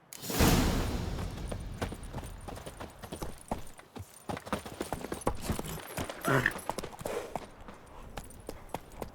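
Hoofbeats of Geralt's horse Roach in The Witcher 3: a steady clip-clop of hooves at a walking pace, close and clear, with a loud whoosh at the start and brief rustling movement.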